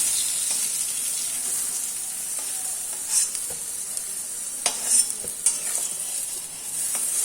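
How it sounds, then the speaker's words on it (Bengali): Continuous bright sizzle of eggplant frying in hot oil, with occasional spatula scrapes and taps, close and steady, no voices. "বেগুন প্রায় আমার ভাজা হয়ে গেছে"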